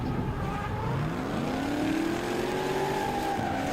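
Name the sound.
supercharged V8 drift cars accelerating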